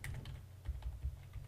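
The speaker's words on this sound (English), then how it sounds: "I want just to type" Fast, light clicking of a computer keyboard being typed on, a quiet run of closely spaced keystrokes with no talking.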